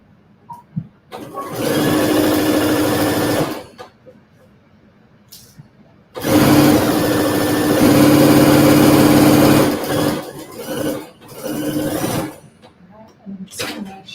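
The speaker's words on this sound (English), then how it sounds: "I'm going to lift the needle and start sewing." Sewing machine stitching a quilt seam, running in long loud bursts of steady buzzing whir separated by short pauses, close by, with the motor starting and stopping several times.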